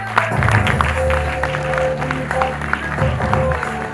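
An audience applauds a winner at the Trans Achievers Awards ceremony, steady crowd clapping mixed with background music and some voices.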